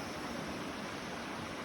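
A wilderness creek in the Trinity Alps flows steadily, a close, even rush of water that stays constant throughout the short stretch with no voices over it.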